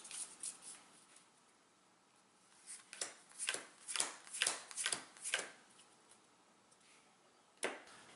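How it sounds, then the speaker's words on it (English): A deck of cards from the Legendary Buffy the Vampire Slayer deck-building game being shuffled by hand, quiet riffling bursts that cluster in a run of rapid flutters midway, then a final single snap near the end. "Now I'm going to take the discard pile, and we're going to shuffle it"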